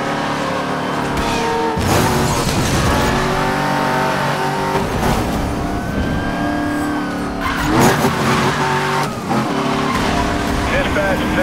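Race cars revving, accelerating and skidding with squealing tires in Need for Speed Most Wanted, a loud continuous engine roar with repeated tire squeals while radio voices talk over it.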